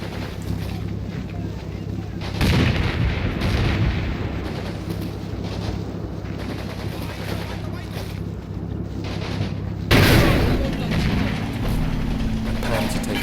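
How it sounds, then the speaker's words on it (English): Gunfire and artillery shots rumble in the Combat Mission Normandy wargame during a World War II battle in Italy, with broad booming bursts around the middle and a loud blast near the end over continuous battle noise. "More shots are flying overhead."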